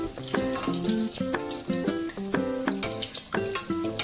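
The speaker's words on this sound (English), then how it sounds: "we are going to fry it from the top until the fish gets a golden crust" Fish frying in hot oil in a pan as oil is spooned over the top, a close, crackling sizzle with wet spattering, while a melodic tune plays along underneath.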